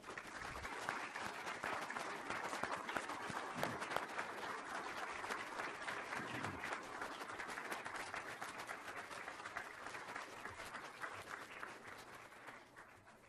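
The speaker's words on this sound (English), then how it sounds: "How about another round of applause for Cyril George?" Sustained audience applause after a plenary keynote speech, steady dense clapping for about thirteen seconds without voices over it.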